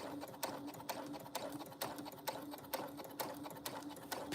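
A sewing machine stitches a bag at a steady pace, its close continuous motor whir punctuated by evenly spaced rhythmic clacks roughly twice per second.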